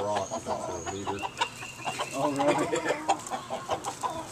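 Hens clucking nearby in a run of short, choppy calls and squawks, with a faint voice in the background.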